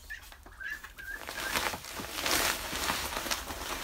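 Ducks in their pen at night make a dense, continuous chorus of loud, nasal calls that overlap into a steady clamor, with a few higher whistling notes at the start.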